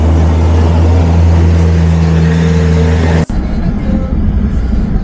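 A car passes close by cyclists on a climbing road between Tagaytay and Sungay, its loud engine drone and tire roar holding steady, then cutting off abruptly and giving way to quieter road noise.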